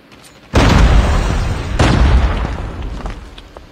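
Frag grenade explosion in Call of Duty, a sudden loud booming blast followed by a second heavy burst and a rumbling decay, close and dominant with no talk.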